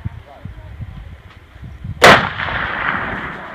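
A single loud bolt-action rifle shot fired at a shooting range, a sharp crack followed by a long rolling echo, with quiet background noise before it.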